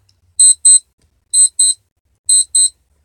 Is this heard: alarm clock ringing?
yes